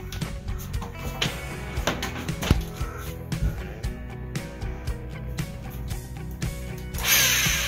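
A power drill drilling into a wall whirs in short, uneven bursts, starting and stopping repeatedly with clunks and scrapes between runs, close and fairly loud.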